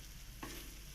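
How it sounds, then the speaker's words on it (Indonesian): Baby porridge with spinach stirred in a pan, a soft low background hiss and a single short, faint scrape of the spoon partway through. "Aduk lagi hingga merata."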